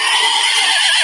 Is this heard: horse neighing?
yes